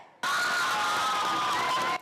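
A crowd cheers and shouts loudly at a Westwood High School unified basketball game, with the noise cutting in abruptly and holding as a dense, steady roar of mixed voices.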